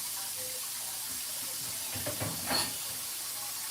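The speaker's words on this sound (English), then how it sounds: "get water in the pot immediately" Tap water runs briefly into a cooking pot in a kitchen, a soft hissing stream that swells for about a second under a quiet background hiss.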